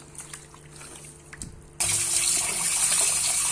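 After a quiet moment, a tap suddenly gushes. Water runs steadily and splashes over raw chicken pieces being rinsed with turmeric and salt in a sink, loud and close.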